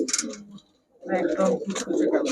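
Caged giribaz high-flyer pigeons coo in short throaty bursts, one brief call, a pause, then a denser run of overlapping coos, close and fairly loud, with a voice talking among them.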